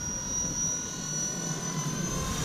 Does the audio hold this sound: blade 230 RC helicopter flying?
yes